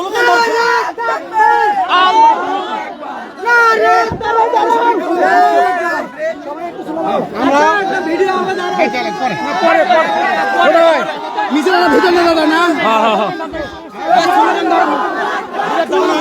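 A crowd at a street political procession in Gobindaganj, Gaibandha chants slogans loudly and rhythmically, voices rising together in repeated calls over busy chatter and shouting close by.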